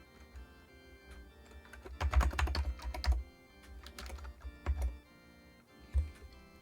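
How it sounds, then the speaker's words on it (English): Keys clatter on a wireless USB computer keyboard in irregular bursts of fast typing, close and clear, with short pauses between flurries and no voices. "like a wireless USB keyboard of some sort"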